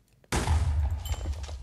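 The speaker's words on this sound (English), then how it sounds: "I heard another creeper explosion" A creeper blows up in Minecraft: one sudden, loud blast bursts out of near silence and leaves a heavy rumbling tail that slowly fades.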